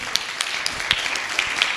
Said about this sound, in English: Can we give them a round of applause already?